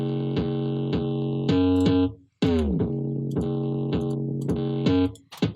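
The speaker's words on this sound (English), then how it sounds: "And then with fat mode on, it sounds like this." Gritty, distorted synth run through a Camel Crusher plugin with fat mode on, playing a rhythmic sequence of harmonic-rich stabs and chords with a brief gap midway, loud and upfront with no talking.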